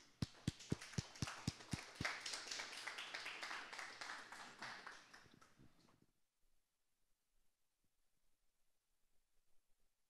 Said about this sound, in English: Let's give him a round of applause, you all.